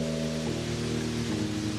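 Steady, even rain hisses in a broad wash for a moment in a car advert, joined briefly by a low, humming engine-like drone.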